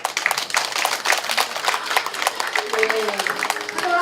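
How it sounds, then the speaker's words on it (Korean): Audience applause at a Songpa academy admissions information session, honoring the academy director: dense, steady clapping from a crowd filling the room throughout, with a voice briefly audible near the end. "우리 우성광 원장님께 다시 한번 뜨거운 박수 부탁드리겠습니다"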